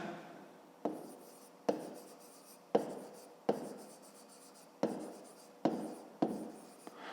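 Handwriting on paper during a fifth-grade maths exercise, quiet scratching pen strokes in separate bursts, about eight of them, each starting sharply and fading, with no talk.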